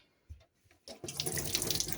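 Water from a kitchen tap in a Bailey Senator gushes into a sink after a few soft clicks, the splashing stream steady and close.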